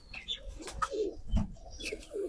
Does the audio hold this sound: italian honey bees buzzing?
no